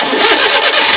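A Suzuki Multicab DE52 with a misfiring engine that will not idle starts and runs, a loud, close, rough mechanical roar filling the whole short moment.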